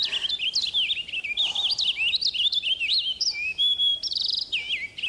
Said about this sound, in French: Un chant de paruline.